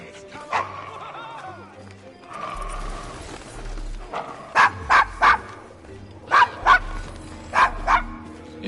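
Dog barking in the video game Assassin's Creed Syndicate, in a rough London street setting, with a string of loud, close barks in two bursts of three to four, over game speech, music and clip-clop hooves.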